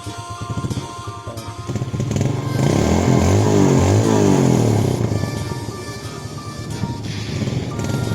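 A Yamaha Jupiter Z motorcycle engine starts up and runs close by, rising into a loud, steady idle with some revving before easing off slightly, with some clatter at the start.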